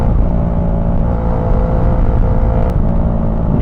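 Busy road traffic around a moving Bajaj Dominar 400 UG2 motorcycle heading out toward San Juan, La Union, a loud continuous engine and road roar with steady tonal whine and a brief sharp hiss near the end.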